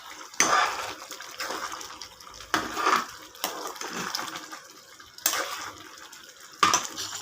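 Chicken biryani with three whole green chillies is stirred in a pot, with a ladle scraping and clanking against the metal in four or five distinct bursts, close and moderately loud, without speech.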